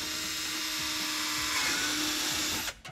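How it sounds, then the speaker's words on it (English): A power drill whines steadily at high speed while boring through the flange of a Delta curved shower wall set at a stud, close and loud, then stops abruptly near the end. "And then drill right through the center"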